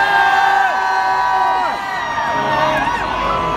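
A big outdoor crowd at a concert in Bellahouston Park, Glasgow, cheers and whoops loudly. Many voices rise and fall in sliding shouts that overlap across the whole stretch.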